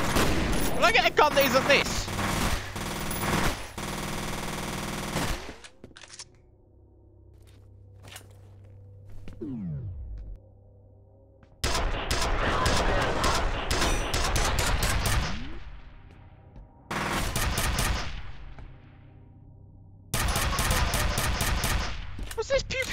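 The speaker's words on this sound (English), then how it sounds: "What's this pew pew gun?" Gunfire erupts in bursts from the shooter game F.E.A.R., rapid loud volleys separated by quieter gaps with footsteps and a brief spoken question.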